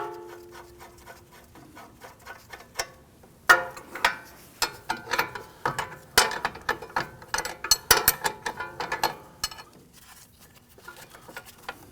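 Rapid ratchet clicks in uneven bursts as a wrench removes a strut nut on a Volvo S60, close and crisp with brief pauses between strokes, no talking.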